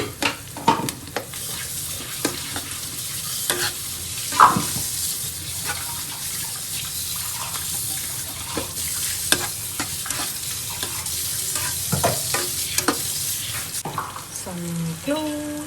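Black peppercorns and lots of ginger sizzle and fry in a pan while being stirred, a close, continuous crackling hiss with frequent scraping clicks of the stirring utensil and a brief voice at the end.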